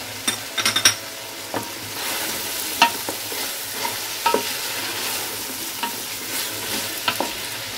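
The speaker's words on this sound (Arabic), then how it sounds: "الدجاج تشحر ليا مع الثومه" Chicken pieces frying with garlic in a pan, a steady close sizzle broken by scattered clicks and scrapes of stirring, no voices.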